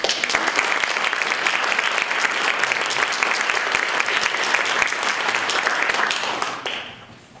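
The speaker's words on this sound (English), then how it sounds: "So if you guys would all please give a big warm round of applause for Mike Elk and Sean Weaver." A large comedy-show audience applauds loudly and steadily, dense clapping holding for several seconds before fading out at the end.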